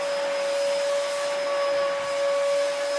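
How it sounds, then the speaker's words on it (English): Vacuum cleaner running steadily at close range with a strong whine, picking up drywall dust from a tile floor during house renovation work, continuous for the full stretch with no talk. "That's why I got the vacuum here right now."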